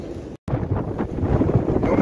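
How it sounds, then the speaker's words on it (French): Strong gusts of up to 50 knots batter the microphone at Port Leucate harbour, where moored boats are tied up, giving a loud, continuous roaring rumble with surging swells and a brief dropout near the start. "Alors là, avec les rafales qu'il y a aujourd'hui, je ne vous raconte pas."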